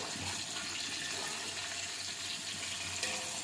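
Onions sizzle and hiss as they fry in hot oil with cloves, cinnamon and cardamom for biryani, a steady, broad, faint crackling sizzle throughout.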